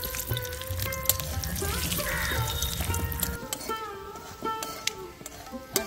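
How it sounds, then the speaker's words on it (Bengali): Dried red chilli, nigella and black mustard seeds spit and sizzle in hot oil for a raw mango and egg dish, crackling with scattered sharp pops over a steady frying hiss, close up. "এবারে দেবো একটা শুকনো লঙ্কা ফোড়নে, আর আছে কালো জিরে আর কালো সরষে। এবার আমি এগুলো দিয়ে দিলাম।"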